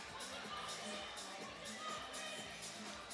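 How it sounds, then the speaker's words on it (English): A crowd of basketball fans at the FIBA 3x3 World Cup 2026 quarter-finals makes a faint, distant arena murmur that swells in brief rhythmic bursts. A voice talks quietly over the crowd noise. "Really good crowd here on day 6"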